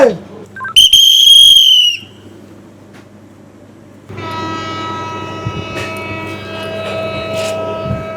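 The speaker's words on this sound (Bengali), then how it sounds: "ট্রেনের হুইসল বাজছে" A train's whistle blows loud and near for about a second as a Bangladeshi passenger train departs for Dhaka, followed after a pause by a long sustained horn-like drone with engine rumble beneath.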